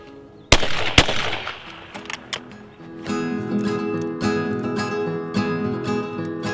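A 20 gauge shotgun fires a Federal hull on its thirteenth reload, giving two sharp, loud blasts close together near the start, followed by a lingering rumble of background noise.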